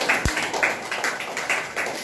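Schoolchildren clap for a prize winner at a primary school indoor plant exhibition, with light, scattered applause of uneven claps at a moderate distance and no talk over it.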